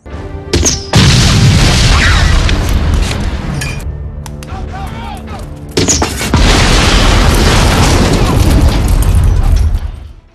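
An M79 grenade blast blows up a police car in a Terminator film action scene: loud booming explosions with crashing debris and clinking glass, one burst near the start and a second around the middle, each followed by sustained roaring rumble.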